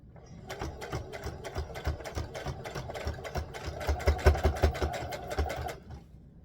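A sewing machine stitches a doll dress skirt for McCall's pattern 2162, a steady rapid mechanical chatter of needle strokes running for about five seconds before stopping, close and fairly loud.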